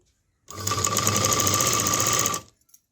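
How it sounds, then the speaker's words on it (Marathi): A sewing machine runs in one steady two-second burst stitching along a sari edge, a close, rapid mechanical whirr and clatter that starts and stops cleanly, no talking. "मी शिलाई बघा इथून मारते ह्या किनारीवरूनच मारते"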